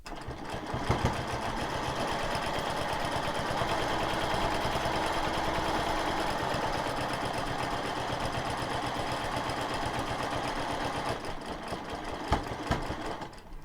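A sewing machine runs continuously while quilting a line across a quilt, its fast steady needle chatter and motor hum close and even for most of the stretch before easing off near the end.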